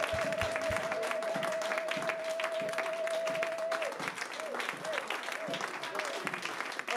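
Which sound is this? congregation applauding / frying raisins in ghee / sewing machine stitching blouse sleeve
congregation applauding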